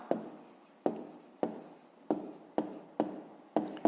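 Pen strokes on paper while working a fifth-grade math exercise, a close, dry scratching repeated in about eight evenly spaced bursts, each starting sharply and trailing off, with no voices.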